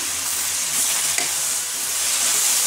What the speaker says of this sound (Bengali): নাড়াচাড়া করবো চাটনি